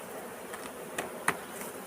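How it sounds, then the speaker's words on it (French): Honeybees buzz faintly as they are shaken off a hive frame during a varroa treatment, a soft steady hum with a few brief sharper knocks and clicks. "je vais secouer mes abeilles"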